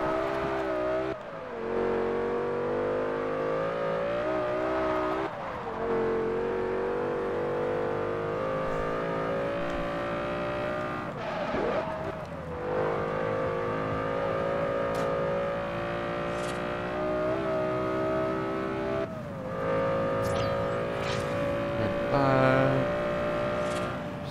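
Car engine in the Forza Horizon racing game holds a loud sustained drone with wavering pitch as it slides through drifts, dipping and surging with brief shifts, steady and close throughout.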